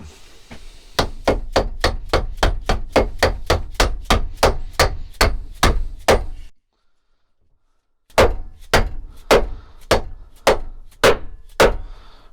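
Rapid, evenly spaced metallic hammer blows driving case cups into a BMW driveshaft, about a dozen in a steady rhythm, then a brief pause before another run of strikes, loud and close.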